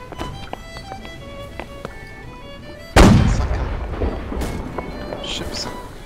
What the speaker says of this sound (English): Perhaps it would be best if you don't shoot at our allies with the cannons.